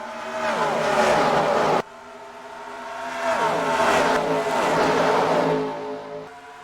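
Race cars in a racing video game accelerate at Texas World Speedway, with loud, continuous engine whine climbing and falling in pitch as the cars pass, cutting briefly near the start before surging again.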